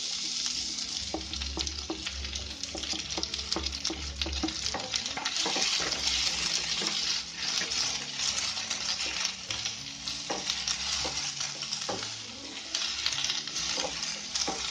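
Onions and garlic frying in a pan for sarson ka saag, a loud continuous sizzle with frequent stirring scrapes and clicks of a spoon against the pan, no voices.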